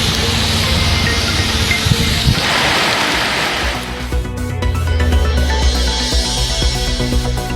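Rain pours down in Ettayapuram, Thoothukudi district, a dense, steady hiss of falling water that shifts partway through as a low tonal hum rises beneath it.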